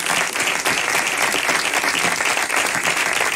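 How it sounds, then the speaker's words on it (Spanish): A theater audience at a flamenco concert claps steadily in dense, sustained applause, loud and even throughout with no voices on top. "Un aplauso para él."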